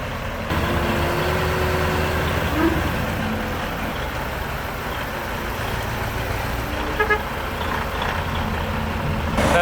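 A dump truck engine idles nearby in a continuous low rumble with traffic-like background noise, briefly overlaid by faint higher tones.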